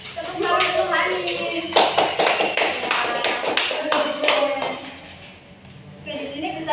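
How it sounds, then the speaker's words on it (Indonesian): A classroom of children clapping hands for a classmate during a microteaching lesson, rapid rhythmic claps in bursts that swell and fade, with a teacher and children speaking over and between them. "beri tepuk tangan untuk Hani."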